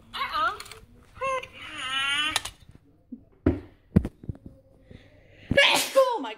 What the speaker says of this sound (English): Oh my gosh, I gotta sneeze.